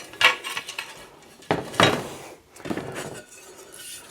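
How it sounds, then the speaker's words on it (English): Metal BBQ grill tools for a Weber kettle and a Masterbuilt smoker clatter and clink together in several loud bursts, separated by brief pauses. "Excuse the clatter noise."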